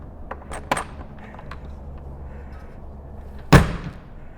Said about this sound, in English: So I'm going to go ahead and close this door right here.